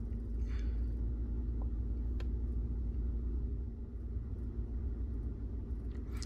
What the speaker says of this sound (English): Start up your car